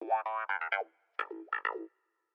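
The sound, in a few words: cut-up clavinet loop sample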